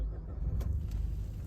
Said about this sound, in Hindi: सो स्टार्ट करते हैं गाड़ी को।